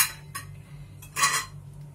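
A metal steaming sieve set into a pot of boiling water for modak gives two sharp metallic clinks, one short and one brighter and longer, over a faint low bubbling hum.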